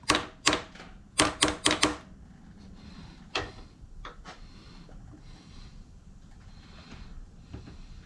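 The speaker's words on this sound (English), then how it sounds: "Tighten the vise, give it a tap down." A workpiece for a crankcase vent valve is tapped down in a vise, giving a quick burst of sharp metallic taps followed by a couple of isolated knocks.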